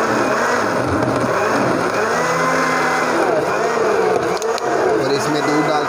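A kitchen blender whirs loudly and continuously, mixing ice cream syrup into a milkshake, a steady close motor drone with a voice talking over it.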